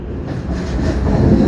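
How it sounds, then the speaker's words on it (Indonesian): The Sembrani passenger train pulls into Cirebon station with a loud, close rumble of wheels on rails that builds slightly over a brief stretch. "Kereta api Sembrani tiba di stasiun Cirebon pada pukul 13 lewat 50 menit waktu Indonesia Barat"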